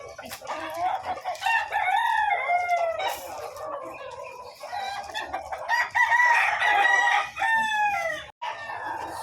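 Chickens and roosters at the Malabon pet market in Malabon crow and cluck close by, with several overlapping calls rising and falling over steady background noise.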